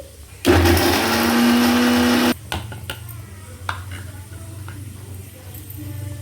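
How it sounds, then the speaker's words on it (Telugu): A loud mixer grinder grinding spices with garlic into powder whirs steadily for nearly two seconds and stops abruptly, followed by a few light clicks and clatter. "కొంచెం తెల్లగడ్డ కూడా వేసుకొని మిక్సీ పట్టుకోవాలి"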